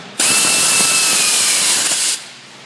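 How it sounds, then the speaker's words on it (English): A power tool tightens an alternator bolt on a Ford Taurus 3.0L 12-valve engine, one loud continuous whirring burst of about two seconds that then cuts off. "And then we'll tighten the other alternator bolt right here."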